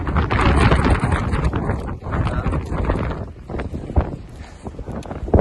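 Strong wind gusts and buffets the microphone outdoors on a hiking traverse of the Vercors on a cold day, a steady low roar throughout with a brief spoken word near the middle.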